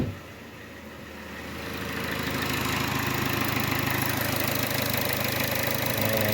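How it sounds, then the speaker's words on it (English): A Chevy Sonic's engine idles steadily with the air conditioning switched on; a low, even hum and whir builds over the first two seconds and then holds at a moderate, constant level. "I'm gonna go ahead and start up the engine now."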